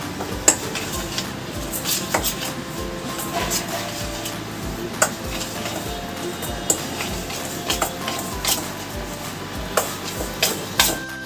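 A spoon works semolina, sour yogurt and salt together in a bowl, with soft scraping and repeated light clinks against the bowl's side at an uneven pace, fairly close and quiet.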